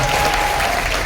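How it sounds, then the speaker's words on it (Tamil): An audience at a celebration event applauds, a dense, even patter of clapping held steady through the short moment. "இப்பவே உள்ள எல்லாம் கைத்தட்டாங்க"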